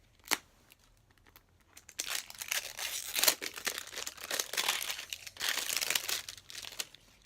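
Plastic and foil packaging of an LOL doll crinkling and tearing as it is unwrapped, a sharp crackle at the start followed by continuous close rustling bursts.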